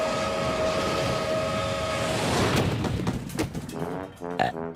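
Cartoon train sound effect, a loud rumbling rush of rolling wheels and rail noise that builds, then breaks into chugging pulses and a whistle-like tone near the end.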